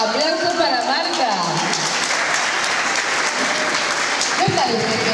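Audience applause for Marta Sánchez at a diploma ceremony for sign language courses, a loud, sustained wash of many hands clapping, with voices rising through the crowd.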